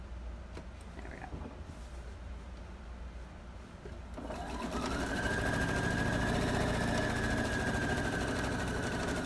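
A sewing machine runs a 1/4 inch seam allowance on quilt pieces, starting after a quieter stretch and then stitching steadily at close range with a continuous motor whir.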